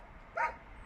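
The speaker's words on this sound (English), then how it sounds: "there's a very desperate dog wanting to get out of the car at the moment" A dog shut inside a parked car lets out a single short, muffled bark on a sunny day, heard alone at moderate level over faint outdoor background noise.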